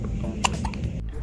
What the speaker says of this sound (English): Why do babies get hiccups?